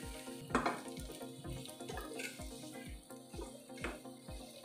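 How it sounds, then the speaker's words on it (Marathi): Cumin, turmeric, asafoetida and curry leaves sizzling in hot fat for a tempering for Maharashtrian tomato saar, a steady crackling fry with soft rhythmic stirring or tapping throughout. "आपली फोडणी मस्त अशी खमंग झाली पाहिजे."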